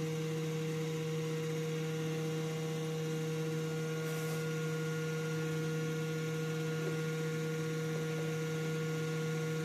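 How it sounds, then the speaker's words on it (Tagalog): A loud blower fan runs inside a Peavey powered audio mixer under repair, a steady droning whir with strong mains-like hum, constant and close throughout with no talking. "Grabe kalakas ng blower."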